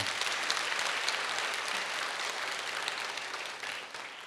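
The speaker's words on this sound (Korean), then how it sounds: "응원의 박수를 부탁드리겠습니다" A church congregation claps in warm, sustained applause that fills the room, dense and steady before tapering slightly at the end.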